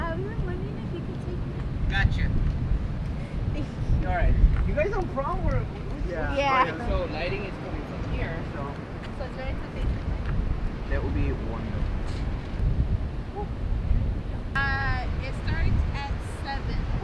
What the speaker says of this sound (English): It looks like wind is blowing this way.